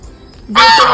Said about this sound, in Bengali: আমরা হঠাৎ করে এখানে একটা রাজহাঁস দেখতে পেয়েছি